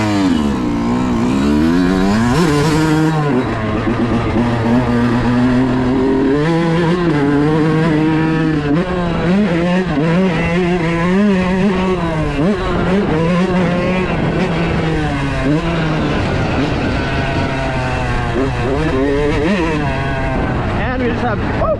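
Yamaha YZ125 two-stroke dirt bikes, a stock 2026 and a modified 2018 with a Pro Circuit exhaust, running on C12 race gas, their engines screaming and revving up and down in loud, rapid surges that last the whole stretch.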